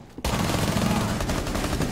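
Sustained gunfire in Rainbow Six Siege bursts in suddenly after a brief quiet moment, then continues as a loud, dense volley of rapid shots until the end.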